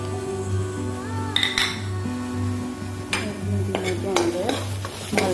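Red chilli, cumin and coriander powder with bay leaf frying in oil in a pan, stirred continuously: a constant sizzle under repeated scraping and clinking of a spoon against the pan, close and busy.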